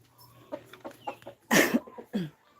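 Roosters cluck in a few short, close bursts, with one louder, harsher squawk midway through.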